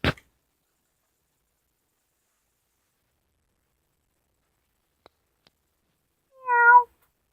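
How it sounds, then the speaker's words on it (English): A cat gives a single short meow near the end, clear and fairly close, after a long stretch of near silence opened by a brief click. "you have to be quiet if you want to hear meows."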